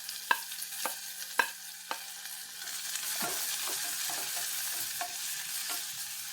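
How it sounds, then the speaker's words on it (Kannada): Chopped onions drop into hot oil with fried garlic and hiss. A few sharp stirring taps come first, then a steady, close sizzle runs to the end, with no voices. "ನಮ್ಮ ಬೆಳ್ಳುಳ್ಳಿ ಫ್ರೈ ಆಗಿದೆ, ಈರುಳ್ಳಿನ ಹಾಕಿಕೊಳ್ಳೋಣ."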